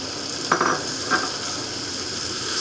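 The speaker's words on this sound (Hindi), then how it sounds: "शिमला मिर्च को हम अच्छे से मिक्स कर लेंगे" Bell peppers are stirred into chicken curry frying in a pan, giving a steady sizzle with two brief scraping stir strokes near the start. No one speaks.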